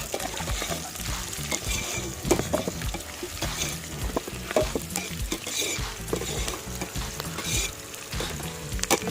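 Onions frying in a pot over an outdoor cooking fire, stirred steadily with repeated scraping clanks of the utensil against the pot over a constant loud sizzle, with no talking.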